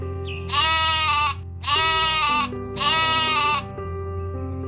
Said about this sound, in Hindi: भेड़